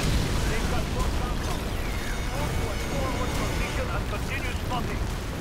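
Artillery explosions in Call of Duty: United Offensive, a dense, continuous roar of blasts and rumbling debris that fills the clip at high volume without pause.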